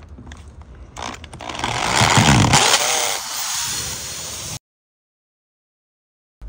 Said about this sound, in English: What you'll need is a hammer drill with a masonry bit.